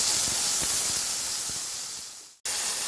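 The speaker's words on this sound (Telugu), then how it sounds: "చింతపండు గుజ్జుని ఇలా వేస్తాం." Tamarind pulp poured into a hot pan, giving a loud steady hiss of sizzling that slowly fades, cuts out briefly, then resumes at full strength.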